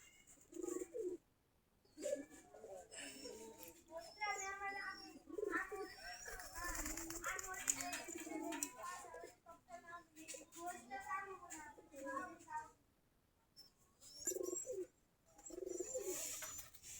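Desi Giribaz pigeons gathered on their perches coo in repeated warbling bursts, close by, with soft wing flaps between phrases and someone talking at times.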